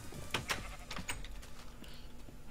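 Minecraft sheep bleat several times in quick succession, short nasal cries that are fairly faint, with no speech.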